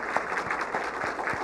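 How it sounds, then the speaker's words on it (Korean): A church congregation at a Korean Sunday morning service in 2017 claps to welcome guests. The applause is a short, even burst of many hands, heard at moderate volume. "우리 박수로 한번 환영하겠습니다."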